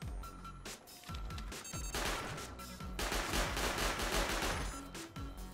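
Gunfire from shooting at a turret in the video game Rust, as dense, rapid automatic bursts. The shots run loud and nearly continuous across the whole stretch.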